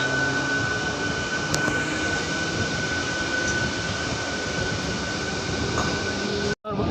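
Unreserved passenger train 06819 on the Erode to Palakkad Town route pulls away, a loud continuous rumble of rolling wheels and carriages close by that cuts off abruptly near the end, with no voices.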